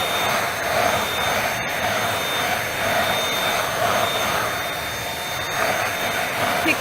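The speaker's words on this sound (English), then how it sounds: "So you've seen how well the Dyson V8 Absolute works on carpet." A Dyson V8 Absolute cordless vacuum cleaner runs on car interior carpet, a loud, steady, close-up airy whine with a couple of brief dips in suction noise.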